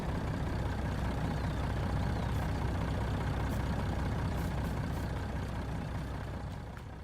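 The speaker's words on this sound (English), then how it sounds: "And we'll park our truck right here. It can stay running." A truck engine in Farming Simulator 19 idles as a steady, low, rumbling drone that stays level throughout, with no voices over it.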